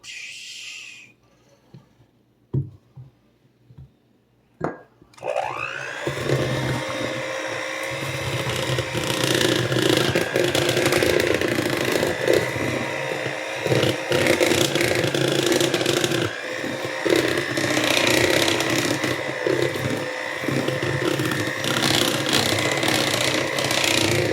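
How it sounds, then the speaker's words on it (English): After a few light clicks and knocks, a small electric kitchen blender mixing carrot cake batter starts up and whirs steadily and loudly for the rest of the time, its motor pitch wavering slightly. "probably gonna get my little blender in here"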